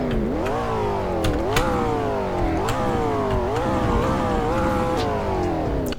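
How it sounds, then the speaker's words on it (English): A supercar's engine revs repeatedly, its pitch rising and falling in close, loud sweeps, with sharp pops of backfire cracking between the revs. "let's do some revs too"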